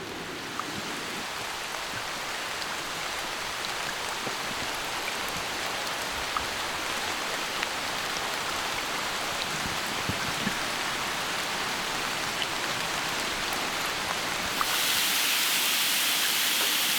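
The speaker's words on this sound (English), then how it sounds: "we woke up to pouring rain" Pouring rain falls steadily on a campsite in the West Virginia woods, a dense, even hiss of drops striking surfaces that continues unbroken and close throughout, with no voices.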